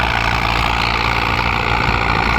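A New Holland 6640 tractor without turbo pulls a 4-disc plough through a field, its diesel engine a loud, steady, close-up low rumble with continuous mechanical drone throughout.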